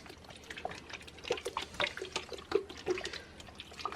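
Water is poured slowly onto a homemade worm farm bin, with soft irregular trickling and splashing on dry bedding, faint and close, no voices.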